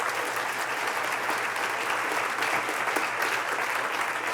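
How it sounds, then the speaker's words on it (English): An audience applauds coaches at a pitch day event, a dense and even wash of many hands clapping, loud and continuous from start to finish. "we should have a round of applause for all the coaches"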